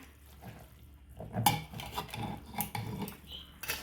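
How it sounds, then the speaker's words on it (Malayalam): Beef curry with meat pieces, salt and turmeric being stirred in a pot, with a spoon scraping and clinking against the metal in several uneven bursts, close and moderately loud, with no talking. "ഇനി ഇതൊന്ന് ഇളക്കി കൊടുക്കാം"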